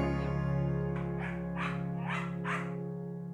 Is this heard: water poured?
no